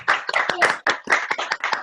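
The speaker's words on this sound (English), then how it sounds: "Give them a clap." Participants in an online health meeting clapping over their microphones, a few hands beating in quick uneven bursts, close and slightly boxy, a faint voice underneath.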